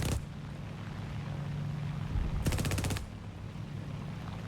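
Spitfire 20mm cannon and .303 machine gun fire in a combat flight game: one short burst at the start and a dense, rapid burst of shots partway through, over a steady low aircraft engine drone.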